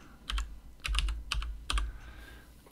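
Several short bursts of keys clatter on a computer keyboard as an extension name is entered into a code editor's search box, quick clustered taps with gaps between, close and fairly quiet with no voices.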